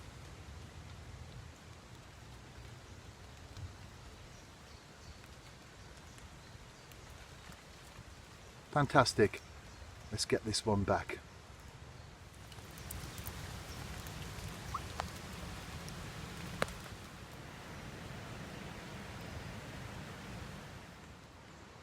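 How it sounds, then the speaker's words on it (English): Steady light rain patters outdoors at a waterside perch-fishing spot, a soft continuous hiss throughout, interrupted midway by brief handling clatter and someone speaking. "The rain continues to fall"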